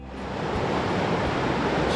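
River water fed by glacier melt in the Qilian Mountains rushes steadily past, a dense, close broadband flow of water that swells in during the first moments and then holds constant, no voices.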